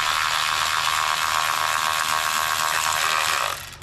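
Ratchet loosening the valve cover bolts on a Ford F150 with the 3.5L engine: a steady, close mechanical whirring buzz runs without a break for about three and a half seconds, then cuts off.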